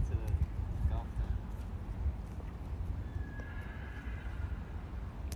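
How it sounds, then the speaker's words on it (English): A horse whinnies loudly over steady hoof clip-clops and outdoor noise on a golf course fairway, with people talking in the background. "Horse is fucking loud."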